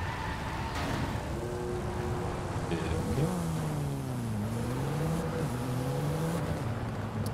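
A Mercedes fitted with a swapped-in motorbike engine in Forza Horizon 5 revs high, a steady, droning engine note that rises and shifts in pitch as it holds near the top of the rev range, with no talking.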